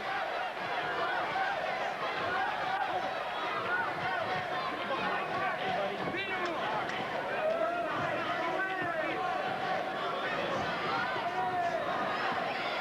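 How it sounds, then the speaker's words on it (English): A large crowd chants steadily and continuously at a 1992 fight championship in San Diego, a dense roar of many voices filling the arena alongside loud announcer-style commentary. "Crowd chanting USA."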